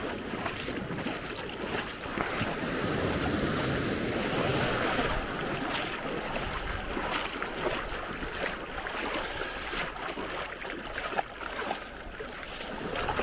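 Ocean waves wash in at the beach in Maspalomas, Gran Canaria, a broad rushing roar that swells and recedes, mixed with gusty wind buffeting the microphone.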